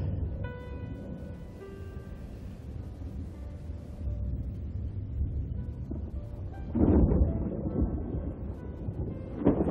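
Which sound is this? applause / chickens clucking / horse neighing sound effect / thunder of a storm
thunder of a storm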